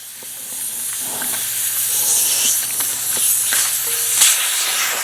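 Air hisses steadily out of a tire's open valve stem once the valve core is removed, a continuous close, loud rush of escaping air lasting the whole stretch with no talking over it.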